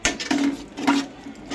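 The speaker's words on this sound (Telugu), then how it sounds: "ఉప్పు వేసిన తర్వాత బాగా కలుపుకోవాలి" Metal spoon scraping and clinking against a pot while Telangana-style chicken curry is stirred after salt goes in, two or three close, soft scrapes in quick succession.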